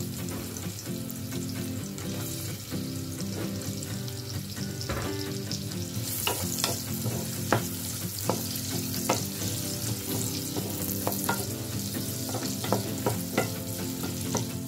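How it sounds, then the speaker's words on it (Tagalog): Onion and garlic sautéing in hot oil for a green bean dish, a dense continuous crackling sizzle with frequent spoon clicks and scrapes against the pan throughout, no talking. "kapag mainit na ang ating mantika, gisa natin ang sibuyas, bawang"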